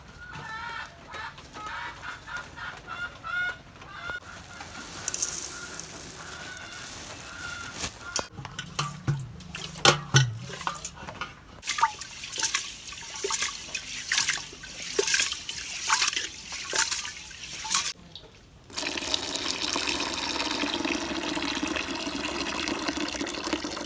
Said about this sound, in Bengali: এখন আমি চালের মধ্যে ডাল নিব নিয়ে দুইটা একসাথে ধুয়ে দিব